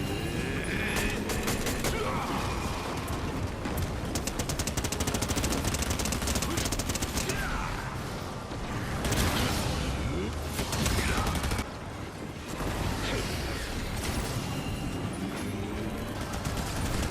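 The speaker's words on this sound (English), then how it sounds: "Suddenly I was getting shot at by 2 angles" Dense video-game gunfire from Fortnite, rapid automatic bursts and shots layered with game effects and music, loud and continuous, with voices mixed in.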